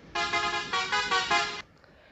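A vehicle steering horn in the Tamilnadu Private Traffic Mod driving game blares loudly for about a second and a half, pulsing slightly in a few bursts before cutting off to near silence.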